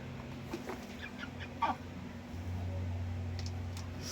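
Soft clucks from chickens, a few brief calls over a constant low hum and faint background noise.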